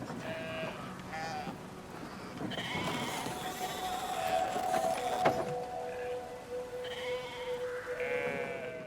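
In the video game Brothers: A Tale of Two Sons, a sheep bleats several times in wavering calls, mixed with mechanical creaks and thuds of a wheel puzzle, fairly close with no talking.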